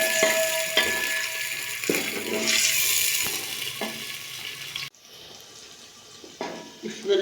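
Onions sizzle and fry in a pan during home cooking of a cauliflower and meat curry, a steady broadband hiss with faint stirring clinks, dropping to a quieter simmer partway through.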